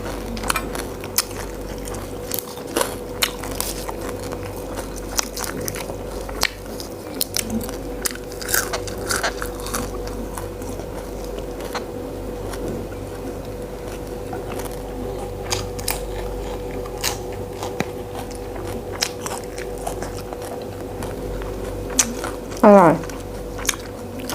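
Crispy fried pork is bitten and chewed up close, giving repeated sharp crunches and crackles scattered over a quiet background during a meal with fresh vegetables.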